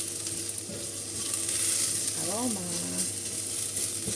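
Shiitake mushrooms sauté in a hot pan, giving a steady close sizzle and frying hiss with brief stirring scrapes, and a short squeak partway through.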